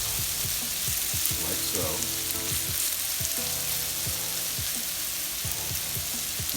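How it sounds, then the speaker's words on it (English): Shredded hash browns laid into hot oil in a pan, a loud continuous crackling sizzle with a spatula scraping and pressing them down, and a brief spoken remark over the frying. "Our oil has reached temperature. We're going to just lay these in."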